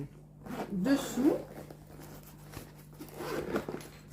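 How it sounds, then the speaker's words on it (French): A zipper on a cheap Temu bag is pulled open in a couple of short rasping strokes, close up, with a voice talking quietly around it. "Il y a une fermeture éclair d'un côté et une de l'autre."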